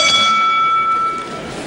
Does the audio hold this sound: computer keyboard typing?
no